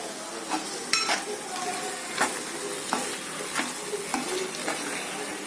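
Chicken curry with tomatoes is stirred in a pot over a low flame: a spoon scrapes and clinks against the metal in a loose rhythm of repeated strokes over a soft, continuous sizzle.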